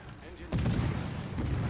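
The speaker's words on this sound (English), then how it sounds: "I will keep firing the guns then." Naval guns of the destroyer USS Mahan firing in World of Warships: a heavy boom followed by rumbling, then a second report, heard under someone talking.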